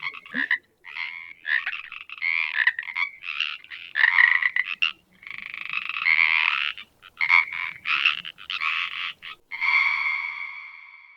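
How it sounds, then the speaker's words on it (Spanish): Many frogs croak together in a lively chorus, bursts of rattling calls stacking and pausing in irregular waves over several seconds, clear and nearby with no voices. "El coro de ranas."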